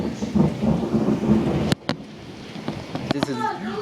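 A severe spring thunderstorm in Windsor, Ontario, with hail and heavy rain pounding down in a dense, loud wash, a sharp crack of thunder cutting through midway, and a few clattering impacts and brief voices after.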